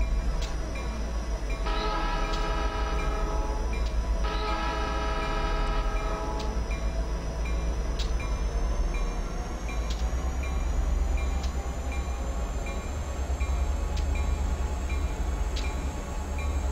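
An SP SD45 diesel locomotive on Donner Pass in Train Simulator 2015 departs with a low, steady engine rumble, a sustained horn blaring twice near the start and faint rhythmic clicks over the drone.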